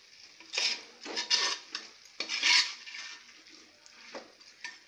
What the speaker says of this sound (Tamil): நம்ம இந்த மசாலும் கறியும் நல்லா திரட்டுற மாதிரி வதக்கணும்